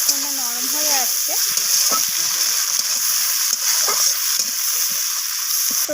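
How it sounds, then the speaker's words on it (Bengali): Chopped onion and tomato fry together in a pan, producing a dense, continuous sizzle with light stirring scrapes. A brief voice sounds at the start. "তো টমেটো আর পেঁয়াজটা আমি একসাথে ভেজে নিচ্ছি, টমেটোটা যতক্ষণ না নরম হয়ে আসছে।"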